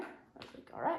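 A dog barks and whimpers in short bursts near the end, fairly close, while a person talks over it in a casual indoor setting.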